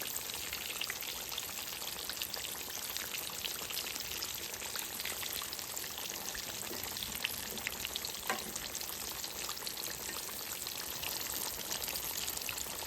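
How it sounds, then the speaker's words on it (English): Green tomatoes fry in a pan, a loud, steady sizzle and crackle that runs continuously with occasional sharper pops. "You can feel the crunchiness coming on the tomatoes as they cook."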